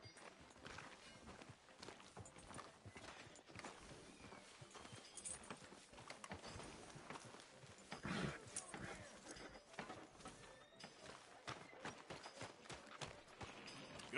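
Horse hooves clip-clop at a steady walking pace amid outdoor town ambience in Red Dead Redemption 2, with voices speaking intermittently over them.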